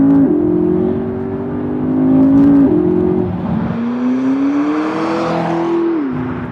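McLaren 12C sports car driven hard along a bumpy road, its engine note rising and falling through gear changes with steady harmonic whine, close and loud throughout.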